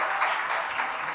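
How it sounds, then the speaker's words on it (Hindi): A crowd applauding during a religious discourse, a dense, steady wash of many hands clapping together, sustained and fairly loud with no voices over it. "अकलंक कहते तो ताली बज गई"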